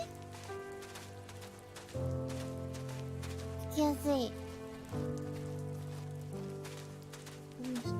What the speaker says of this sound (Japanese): 雨降ってんだよね、これ音